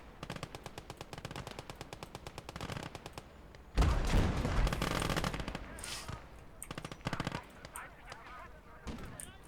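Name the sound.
machine gun firing in video game Call To Arms: Gates of Hell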